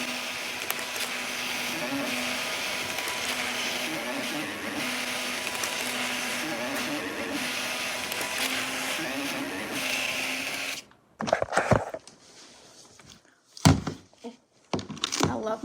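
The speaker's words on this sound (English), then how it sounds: "I love my little thermal label printer. And I just realized that it could print multiple different ones at once." A small thermal label printer feeds and prints several seed-storage labels at once, a steady whirring motor hum running for about ten seconds before stopping, followed by a few faint clicks and handling sounds nearby.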